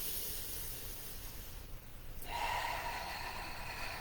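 Deep, slow breathing during a relaxed stretching pose, heard as soft airy inhales and exhales, hushed and close, with no talk.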